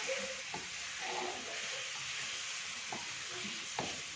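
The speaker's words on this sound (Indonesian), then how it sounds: "terus kita goreng ini, kita campurkan. Kita masak" Shrimp and potatoes sizzle steadily in a hot pan while a utensil scrapes and stirs them in occasional strokes, close up.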